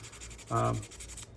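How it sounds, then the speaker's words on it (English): Steady rhythmic rubbing strokes of abrasive sanding a knife blade of a Wards USA three-blade stockman pocketknife, with a brief tonal hum rising in the middle. "I try to sand in one direction"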